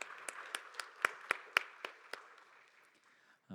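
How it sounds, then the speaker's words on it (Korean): A church congregation at a Sunday youth service claps together: about nine sharp claps sound at a slow, even pace, then fade into a faint scattering of applause in a reverberant room. "박수로 서로를 격려하겠습니다."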